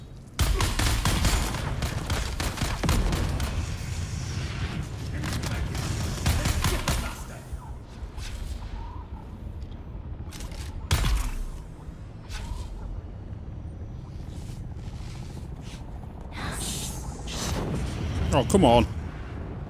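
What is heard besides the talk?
grenade thrown and exploding in Dune: Awakening video game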